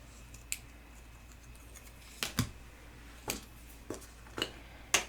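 Scissors snip the bumpy edge off a handmade sticker, giving about six short, crisp cuts spaced unevenly over a few seconds in a quiet room.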